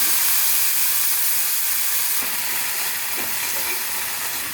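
Mint leaves fry in a hot pan, giving a loud, steady sizzling hiss throughout, with a couple of faint clinks from stirring and no talk.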